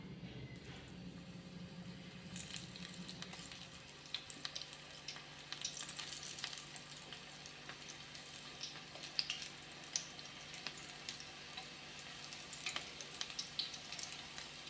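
Shallot pakoda fries in hot oil in a pan, a steady close sizzle and crackle that grows busier as more pieces are dropped in, with occasional sharp pops.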